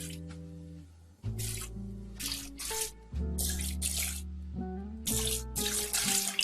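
Canned red kidney beans are rinsed under running tap water in bursts of splashing and trickling, with steady background music playing underneath.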